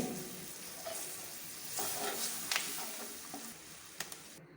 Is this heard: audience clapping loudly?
no